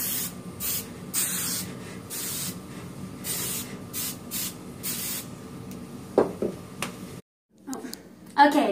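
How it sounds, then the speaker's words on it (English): Hairspray hisses from a can onto freshly curled hair in repeated short bursts, close and crisp, with a few soft rustles and clicks toward the end. "it's a good idea to then spray it with hairspray so that they'll set."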